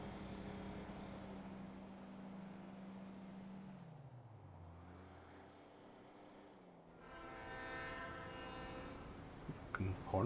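Train horn blasts in a roleplay video game, sustained low tones fading and shifting, then a harsher horn with rich harmonics near the end, over ambient game noise.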